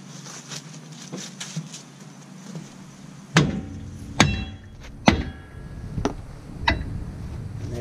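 A chisel used as a pry bar strikes and works at a brake drum on a 2000 Ford F150, giving several sharp metallic knocks and clinks about a second apart, close by, after quieter scraping.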